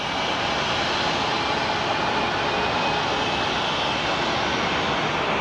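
A Boeing 767 jet airliner at Phoenix Sky Harbor airport gives off a loud, steady engine roar with broad rushing noise that holds constant throughout, without any voices.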